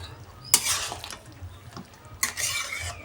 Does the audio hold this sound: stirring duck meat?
yes